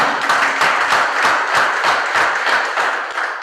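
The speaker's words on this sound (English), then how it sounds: "Let's give another round of applause to our speaker." An audience at a university law society's Lawyers' Day event gives a round of applause for a speaker, with steady, fairly loud clapping and rhythmic surges that fade slightly at the end.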